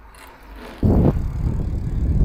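A 1988 Carrera Battaglin road bicycle with Campagnolo C Record parts rolls off, a quiet start giving way to a steady close rush of tyre and wind noise.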